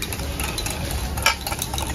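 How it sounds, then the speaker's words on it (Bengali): Sugar and eggs being mixed for cake batter in a bowl, a continuous close swishing and scraping with no pauses, loud and steady. "চিনি আর ডিম ভালো করে এখন মিশিয়ে নিতে হবে"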